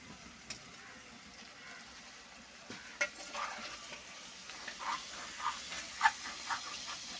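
A pot of raw prawn curry is stirred, a soft sizzle and occasional clicks of the spoon against the pot building into louder, rhythmic scraping and bubbling in the second half.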